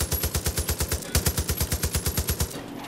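Rapid automatic gunfire in Far Cry 5 aimed at a satellite dish, a loud, steady burst of evenly spaced shots lasting several seconds before cutting off, with no talk.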